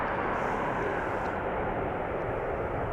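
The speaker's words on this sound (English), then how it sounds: "China Airlines to Taipei A350" A China Airlines Airbus A350 departing Amsterdam Schiphol Airport for Taipei, a loud, steady broadband engine roar that holds without a break.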